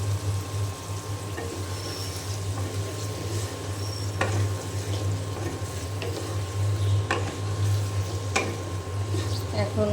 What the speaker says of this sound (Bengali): এখন মশলার সাথে খুব ভালো করে কচু আমি কষিয়ে নেব।